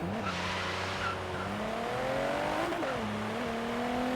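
An A-class car in Forza Horizon 3 drives along with a steady engine note that rises and falls through the gears, topped by a thin, high-pitched whine and occasional tire squeal.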